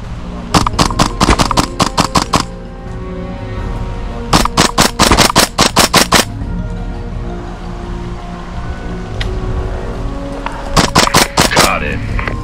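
MTR-16 gas-powered airsoft rifles fire loud, close bursts of rapid shots during an outdoor Sunday game in Lempäälä, three separate volleys split by quieter gaps with background noise.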